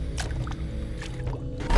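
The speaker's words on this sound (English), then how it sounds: "it sounds like walking through water, but also mud" Squishy wet footsteps slosh through water and mud in the FNAF AR game, a few soft splashy steps repeating close up over a steady low rumble, with a louder thump at the end.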